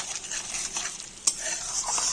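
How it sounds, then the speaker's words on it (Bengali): A spatula stirs and scrapes spices for a palak paneer curry in a pan, with paneer fried in butter, cashew paste and green chilli paste. A steady, close sizzle runs under the stirring, with one sharp clank of metal on the pan. "এই যে কষাচ্ছি, মশলা কষানো চলছে"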